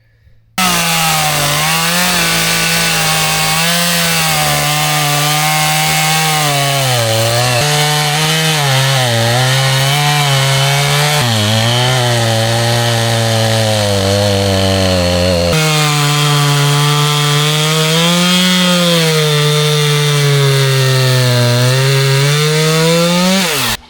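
A chainsaw cuts a log flat, loud and close, its engine whining steadily with pitch dips as the chain bites into the wood, running almost continuously.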